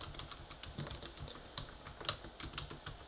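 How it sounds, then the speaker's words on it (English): Someone types steadily on a computer keyboard during a chemical engineering lecture on numerical integration, with quick irregular key clicks and one louder keystroke near the middle, fairly faint in a quiet room. "So now I can type"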